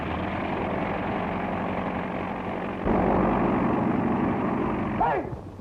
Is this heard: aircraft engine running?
yes